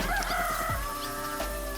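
A rooster crows once in a drawn-out, wavering call that lasts under two seconds, fairly clear against a steady low background hum.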